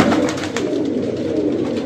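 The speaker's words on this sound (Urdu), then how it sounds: "پروں کی استاد بہت زیادہ آواز تھی اس میں" A pigeon is released and beats its wings in a close, continuous flutter of rapid flapping that holds throughout, with no talk.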